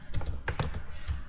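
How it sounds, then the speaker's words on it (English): Keys on a computer keyboard tapped as a keyword goes into a search field, a quick irregular burst of crisp, close clicks with short pauses between them. "Let's type in our primary keyword."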